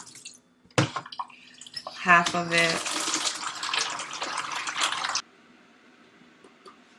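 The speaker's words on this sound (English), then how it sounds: "So I'm putting some of the water on" Water poured over hair locs during an apple cider vinegar rinse splashes and trickles for about three seconds, with dripping, at close range; a person speaks briefly before and during the pour.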